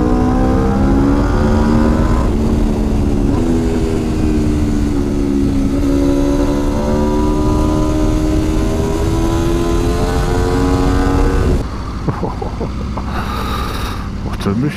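A 2021 Aprilia RSV4 Factory sport motorcycle accelerates hard, its engine note climbing steadily through the gears in a loud, continuous wail with brief dips at shifts, heard up close from the rider's position, before settling to a lower drone.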